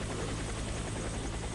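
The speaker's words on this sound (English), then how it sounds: "Get in the chopper." Helicopter in a video game, a steady, loud rotor drone with a dense, even beat that fills the whole stretch with no voices over it.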